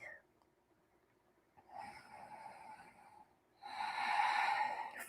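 During a standing pose in Ashtanga yoga, deep, audible nasal breaths rasp in and out: two slow, hissing exhales, the second louder and longer, close to the microphone with quiet gaps between.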